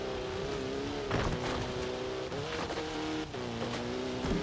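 Engine roar from a car in Forza Horizon 4, holding steady revs with repeated gear-shift dips and rises over about four seconds, loud and close with faint tire noise, no voices.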